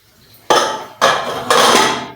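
A metal lid on a pot of dum-cooked vegetable biryani scrapes and clanks three times in quick succession, each a loud bright clatter with a ringing tail, close and alone.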